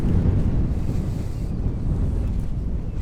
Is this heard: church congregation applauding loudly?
no